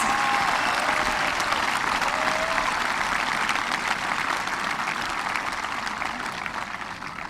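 A large audience at the 2018 Shawnee High School graduation ceremony applauds the top ten percent of the class, a continuous dense roar of clapping that slowly softens over several seconds.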